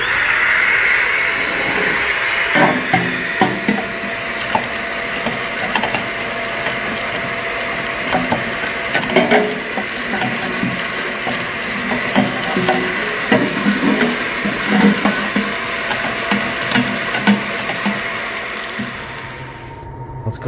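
A vacuum cleaning out a Traeger pellet grill gives a steady, loud roar with a motor whine throughout, overlaid with scattered rattling clicks of wood pellets being sucked in, then cutting off at the end.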